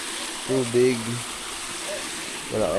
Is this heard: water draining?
yes